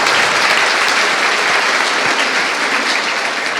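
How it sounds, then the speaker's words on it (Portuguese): A dense, loud round of clapping from a conference audience continues steadily throughout without pause. "Salva de palmas"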